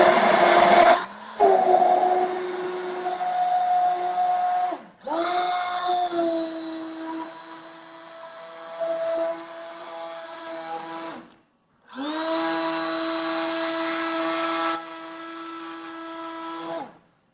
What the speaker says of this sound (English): Now we're gonna emulsify with the hand blender.